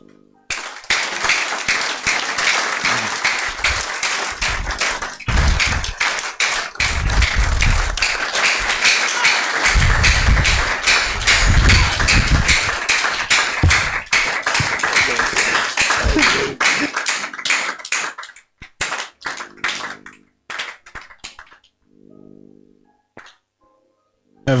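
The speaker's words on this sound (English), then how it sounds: "Can I get another round of applause?" Audience applause at a motivational success talk, a loud sustained burst of dense clapping that holds steady for about twenty seconds, then thins to scattered claps and fades out.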